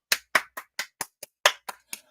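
Nine sharp hand claps from a single person in an irregular rhythm, close and clear over silence, with no talking.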